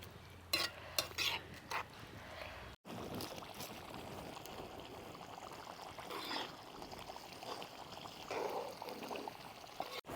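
Ground paste is stirred into a cashew nut theeyal curry in a pan, with a spoon clinking against the metal and soft scraping and sizzling, faint and close, punctuated by a few sharper knocks.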